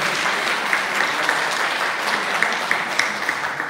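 Audience at a 2022 Sunmudo academic conference applauding steadily for an introduced speaker, a dense, even clapping that holds its level throughout with a few sharper claps standing out.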